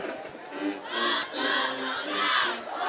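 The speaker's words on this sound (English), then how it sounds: "And now they're doing more chants" A high school football student section chants in rhythmic swelling waves, a loud crowd of voices rising and falling together, fairly near, with no clear speech over it.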